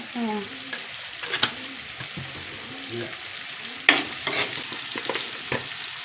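Curry ingredients sautéed in a pan, with repeated spatula scrapes and stirring strokes over a soft frying sizzle and one louder clatter midway, close with no talk.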